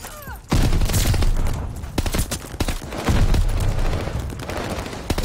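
Dense rapid gunfire crackles in a Call of Duty Vanguard match, a loud sustained fusillade of overlapping shots and bursts starting abruptly and continuing throughout, with a player's voice briefly audible.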